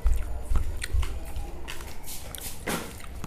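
Kachori with yogurt and sweet and green chutney toppings is bitten and chewed close up, giving moist crunches and squishy mouth sounds over a few seconds, fairly loud with no talk.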